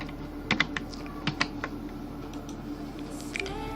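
Code typed on a computer keyboard, a short run of scattered clicky keystrokes at an irregular pace over a faint steady hum, close and quiet.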